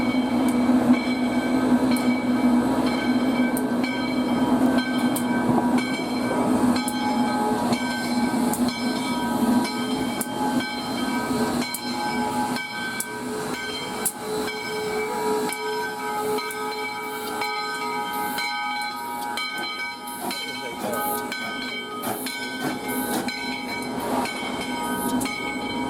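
Steam locomotive 148 being uncoupled and run around to the other end of its train, with continuous hissing steam, chuffing and clanking metal, and a brief whistle, loud and close throughout with no talk.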